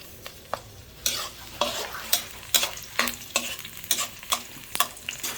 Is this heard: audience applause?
no